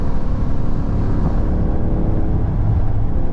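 A deep, rumbling Ford Raptor pickup truck engine revs steadily up close, a loud throaty drone that holds and shifts slightly in pitch, with no talking.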